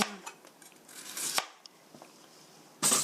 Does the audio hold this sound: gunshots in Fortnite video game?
no